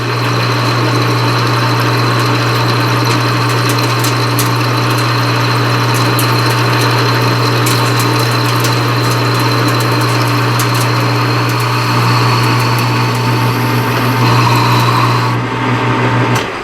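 Metal lathe boring out a workpiece with a large boring bar, a loud, steady motor hum with a strong low tone and bright cutting noise sustained throughout, ending abruptly.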